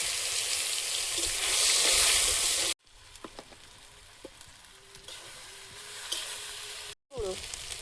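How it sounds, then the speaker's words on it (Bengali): Dried red chillies and whole garam masala spices sizzle in hot oil, loud and close at first, then a softer crackle with stirring and a brief break. "তেলে দিয়ে দিচ্ছি শুকনো লঙ্কা, গোটা গরম মশলা, বাটা, আদা রসুন বাটা"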